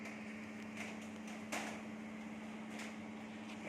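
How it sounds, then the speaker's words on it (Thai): An electric fan runs on power from a solar inverter, making a faint, steady hum with a single light click partway through. "ตอนนี้ผมเปิดพัดลมแล้ว หมุนแล้วนะครับผม"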